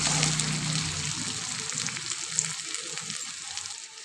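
Warm water poured into a sizzling chicken kofta masala in a hot pan, giving a steady broadband hiss and bubbling that carries on evenly for about four seconds.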